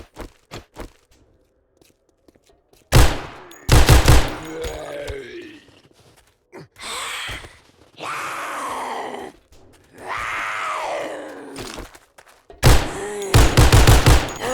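Gunfire in the 7 Days to Die video game comes in short, loud bursts of rapid shots separated by quiet gaps, mixed with groaning and grunting creature sounds between the volleys.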